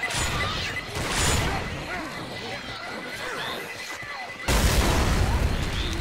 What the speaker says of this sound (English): It's just a pipe bomb out.